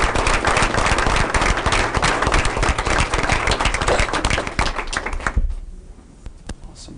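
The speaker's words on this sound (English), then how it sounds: "Let's give the Math Mania team from Alexander Donovan Elementary another big round of applause." A school board meeting audience gives a loud, dense round of applause for an elementary school math team. The clapping is sustained for about five seconds, then thins out and fades to a few scattered claps.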